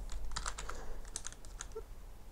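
Typing on a computer keyboard, a quick run of close, crisp key clicks with brief pauses between bursts, heard alone without talk.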